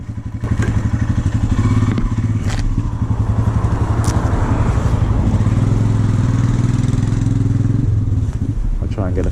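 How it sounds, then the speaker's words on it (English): Motorcycle engines thrum steadily and loudly close by as the bikes ride down the road, a continuous rhythmic throb with occasional clatter and wind noise. "We then got back on the bikes and headed just down the road"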